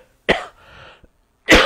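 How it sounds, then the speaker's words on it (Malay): Someone speaking in a press statement coughs twice, a sharp loud cough, then a brief rasping throat noise, then a second heavy cough, all close and with no talk over them. "batuk masih ada lagi"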